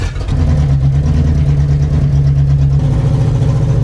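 A car rolls over a rough, bumpy road with a steady droning engine and low rumble, close and loud, with no talking.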